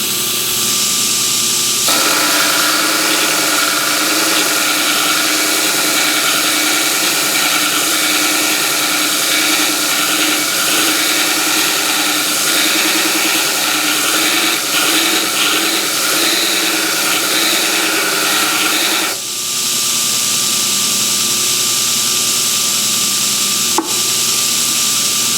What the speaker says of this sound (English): So I'll grind it. Then I'll come in and cool it and then go back to grinding.